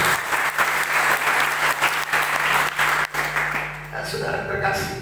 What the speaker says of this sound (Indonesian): Beri tepuk tangan yang dahsyat buat Tuhan.